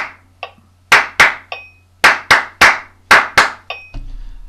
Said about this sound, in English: That's our clapping rhythm of the day